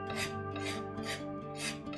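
A knife scrapes chalk paint across an Empire dresser in short repeated rasping strokes, about four rough swipes in two seconds, close up and steady, with no one speaking.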